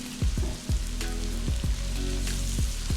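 Beaten egg hits a hot pan of stir-fried green beans and sizzles steadily, a bright crackling fry punctuated by regular low thumps and clinks of stirring, fairly close and with no talking.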